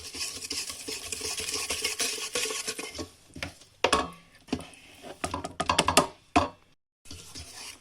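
Dough for savory filled pastries being mixed with a spatula in a bowl, with steady close scraping and stirring at first, then irregular clinks and thuds against the bowl, and no talking.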